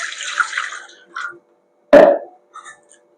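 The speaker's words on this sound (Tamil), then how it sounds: "இட்லி பாத்திரத்துல கொஞ்சம் தண்ணி ஊற்றிக்கலாம்." Water is poured into an idli steamer pot as a rock fish fry is prepared; a short, close splash stands out after quieter kitchen rustling, followed by faint trickles.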